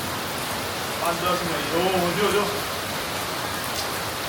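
Steady rain falling during a monsoon shower at a Gujarati home, a continuous soft hiss throughout, with a voice speaking briefly over it.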